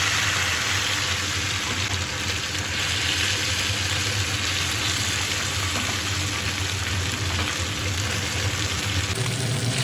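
Small kachki fish are added by hand, a little at a time, into hot oil on a greased tawa, giving a steady, loud sizzle alongside a low, constant hum.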